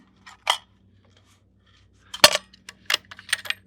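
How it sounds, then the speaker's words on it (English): A rifle magazine drops free from a 7mm PRC long-action rifle at a shooting range: a faint click, then a sharp metallic clack and a few rattling knocks, close up. "The mag came out."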